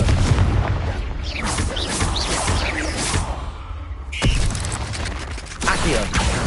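The Confringo fire spell goes off in Hogwarts Legacy, loud booming blasts and crackling mechanical rumble amid dense game combat sound, with a sharp burst near the middle.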